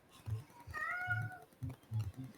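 A person imitates a cat's meow during a tabletop role-playing game, giving one drawn-out nasal meow set between low, muffled voices.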